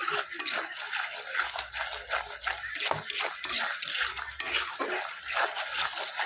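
Sour yogurt stirred with spices in a pan for a Bengali doi katla fish dish: a spoon scrapes and clinks against the pan in irregular strokes, with wet squelching, close up.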